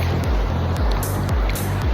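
Slightly stormy sea waves wash in at Karolino-Buhaz beach, a continuous close roar of surf with rhythmic surges and no voices.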